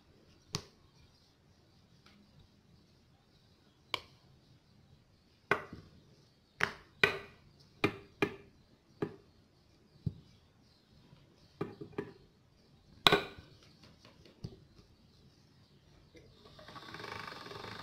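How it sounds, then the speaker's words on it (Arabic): Chebakia dough fed through a pasta sheeter machine, heard as scattered sharp clacks and thuds from the rollers and handle, irregular and close, ending in a rising mechanical whir. "دابا غادي ندوزو نسرحوها بالمدلك وندوزوها في الوراقه."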